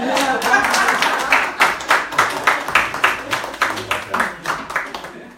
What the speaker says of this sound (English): You can give us a round of